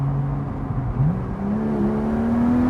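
A Porsche 718 Spyder fitted with a Cargraphic x-pipe race exhaust driving, its engine note dipping then climbing steadily as it pulls through a gear, loud and close from inside the car with constant road roar beneath.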